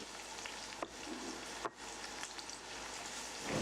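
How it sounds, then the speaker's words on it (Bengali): Onion and garlic sizzling gently in butter over low heat, a soft continuous crackle broken by a couple of brief stirring scrapes, with no voices. "এবার পেঁয়াজ এবং রসুনকে একসাথে 2 মিনিট লো হিটে ভাজবো।"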